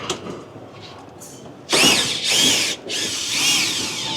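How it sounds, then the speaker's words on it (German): A cordless screwdriver tensions a cargo load-securing strap in a new Interstar Plugvan camper box, giving three loud, close whirring bursts with short pauses between them after a quieter stretch of background noise. "das heißt, du machst die Spannung über den Schrauber"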